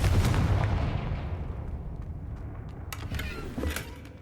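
A fiery Confringo blast spell from the Hogwarts Legacy game erupts with a loud booming burst that rumbles and fades, followed by a few sharper cracks near the end, with no talking.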